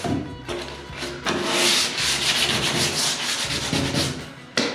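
A dual-action sander with 80-grit paper works over the bodywork of a Jeep J10 truck bedside, a loud steady abrasive whir with brief pauses as the pad lifts off and sets back down.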